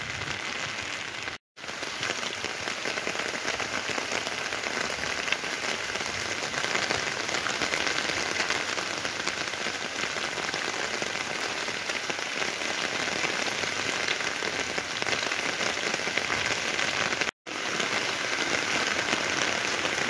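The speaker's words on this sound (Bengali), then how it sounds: "যত সময় যাচ্ছে বৃষ্টির পরিমাণ কিন্তু বাড়ছে।" Heavy afternoon rain pours down steadily in Bardhaman city, a dense, even roar of drops on surfaces that barely changes over time, with two brief dropouts.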